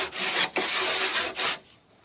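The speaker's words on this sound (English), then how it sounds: "you're going to take your rasp and you're just going to run it right over this" A hand rasp is drawn along the cut edge of a drywall board, making two or three loud scraping passes, each a continuous broadband rasping sound with a short break between strokes, before the work falls quiet.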